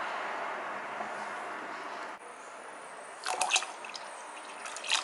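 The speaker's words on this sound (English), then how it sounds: "Now that I checked my rice and it is completely soft at this point, I want to add my milk." Milk poured into soft cooked rice for arroz con leche, a steady liquid pour with soft dripping and trickling, fairly quiet, then brighter splashy bursts toward the end, with no talking.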